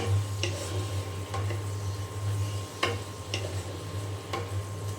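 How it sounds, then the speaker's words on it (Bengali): Ground spices with ginger, cumin and garlic pastes sautéed in a pan, a spoon scraping and tapping at a steady, roughly one-per-second rhythm over a low sizzle and a constant background hum. "এখন মশলা খুব ভালো করে কষিয়ে নিয়ে তারপরে আমি ডিম দিয়ে দেবো"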